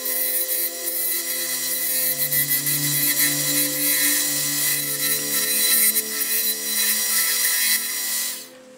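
A hand saw cuts steadily through wood toward a marked line, a continuous rasping stroke sound that runs loud and close for several seconds before stopping abruptly near the end.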